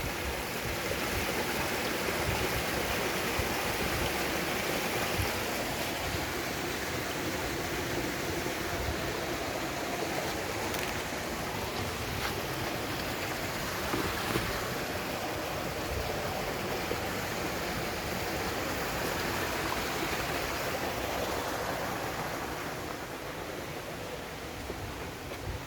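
Joes River in St. Joseph, Barbados flows as a steady, dense rush of water, an even broadband hiss that stays constant and fairly near for the whole stretch, with no voices.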